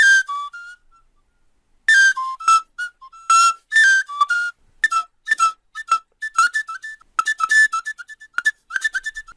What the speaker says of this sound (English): You see what the tube compressor did on this Odja sound.